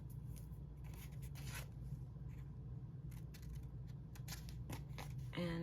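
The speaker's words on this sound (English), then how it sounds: "Grab my scissors and cut out this little corner here at the bottom." Scissors snip the corner off a paper envelope for a junk journal, a few faint, crisp cuts in a quiet room.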